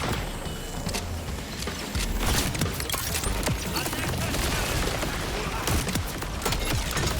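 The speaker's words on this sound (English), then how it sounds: "So again, Jacob's shotguns with that amp." A Jakobs shotgun fires repeatedly in Borderlands 4, giving dense, rapid booming blasts amid constant game combat noise, loud throughout.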